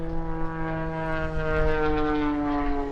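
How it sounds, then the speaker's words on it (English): A propeller aircraft at an air show drones steadily nearby, its engine giving a loud, even buzzing tone with strong harmonics that holds throughout without talk. "I'm trying to talk around the propeller noise."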